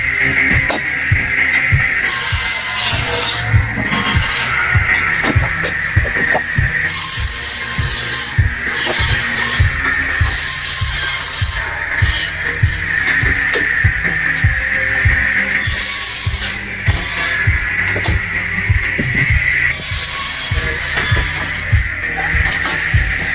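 A giant firewood cutting machine driven by a 300 horsepower V8 saws through wood with a constant loud engine roar, punctuated by repeated cutting bursts and rhythmic mechanical clunks throughout.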